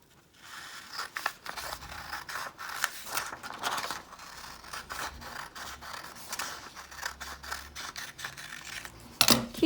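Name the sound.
scissors cutting out paper for mini notebook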